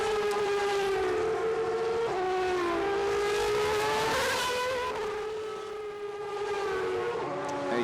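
Superleague Formula race cars roar away at a race start, several engines screaming and rising in pitch together, loud and continuous with shifting, overlapping tones.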